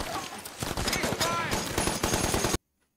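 Rapid bursts of gunfire from a World War II battle scene on Guadalcanal in the TV series The Pacific, loud and dense with rolling echoes and explosions, cutting off abruptly into silence near the end.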